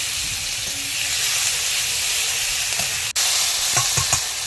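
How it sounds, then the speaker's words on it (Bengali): Tomato and green chili hit hot oil with five-spice seeds for a Bengali fish curry, producing a loud continuous sizzle and hiss, with a few stirring scrapes and sharp pops near the end. "তারপরে গরম তেলে 5 ফোড়ন দিয়ে দেবো, টমেটো আর কাঁচা লঙ্কা একসাথে দিয়ে একটু নেড়ে নেব"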